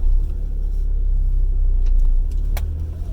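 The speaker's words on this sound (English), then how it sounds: "You can probably hear my idle is down to about 400 RPMs right now" A GSX car idles very low at about 400 RPM after repair work, a deep, steady rumble close by that runs without a break, with a faint metallic tick near the end.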